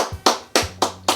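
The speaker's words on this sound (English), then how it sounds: "I am giving myself a round of applause because that is a perfect pork roast" One person clapping alone in a kitchen, five sharp, loud hand claps at a quick, even pace, close up with nothing else heard.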